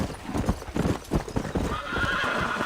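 Horse hooves in Red Dead Redemption clop in a steady rhythm, close and fairly loud, then a horse's whinny rises near the end.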